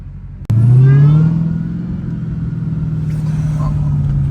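A Dodge Hellcat engine revs hard on a late-night city street, a sudden loud roar that swells and then settles into a steady deep rumble close by.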